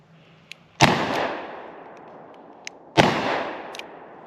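Two loud Colt Trooper .357 Magnum revolver shots fired about two seconds apart, each a sharp crack followed by a long, echoing decay, with faint clicks between them.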